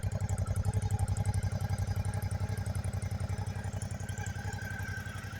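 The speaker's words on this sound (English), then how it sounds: "It has that kind of deep sound of a V-twin." A Suzuki V-Strom 650 XT V-twin motorcycle engine runs steadily at idle, a close, loud, deep pulsing thump with even rapid firing beats and some mechanical clatter throughout.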